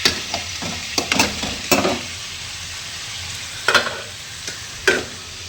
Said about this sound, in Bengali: পেঁয়াজটা হালকা লাল করার পর এখন আলুটা ভাজা বসিয়েছি